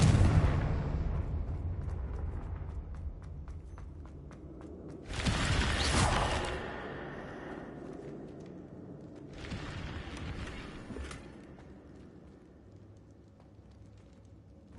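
A Confringo explosive curse in Hogwarts Legacy starts with a loud blast that rumbles on. A second heavy burst follows midway and a weaker third comes later, each trailing off into a low game background.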